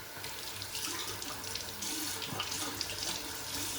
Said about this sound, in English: just wash off the razor